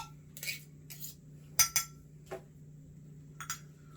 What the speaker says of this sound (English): I'm gonna cut up my ramen noodles.